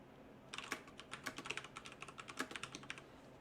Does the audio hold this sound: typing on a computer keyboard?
yes